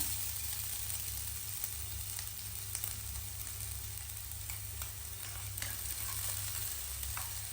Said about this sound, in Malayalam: ഇനി ഇതിലേക്ക് നമുക്ക് തേങ്ങ, നമ്മൾ ചതച്ച് വെച്ചിട്ടുള്ള തേങ്ങ ചേർത്ത് കൊടുക്കാം.